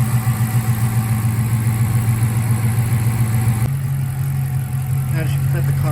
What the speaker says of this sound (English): Now that you got the car running, let it run for a little bit.